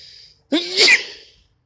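One loud, close sneeze bursts out after a brief quiet breath, then fades to silence.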